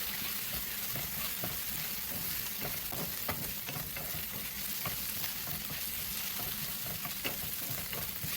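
Ginger garlic paste sizzles steadily in hot oil while a spoon stirs it through, with continuous frying hiss and scattered scraping ticks, close and even throughout, no voices.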